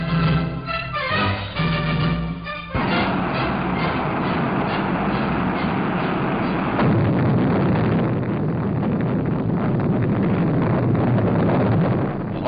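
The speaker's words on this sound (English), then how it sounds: "the 60-ton Juno is ready for firing" A 60-ton Juno rocket carrying Pioneer IV lifts off in 1959, a dense, roaring broadband rumble heard at a distance that swells and holds steady, thickening partway through, with no voices.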